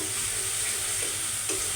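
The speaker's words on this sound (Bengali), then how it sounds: "একটু ভাজা ভাজা করে দিই মটরশুঁটিটা" Green peas, still wet from soaking, fry in a pan with a dense, continuous sizzle and a couple of faint stirring scrapes, close and steady.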